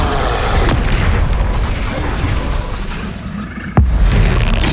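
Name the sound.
Glacius and Confringo spell explosions in Hogwarts Legacy video game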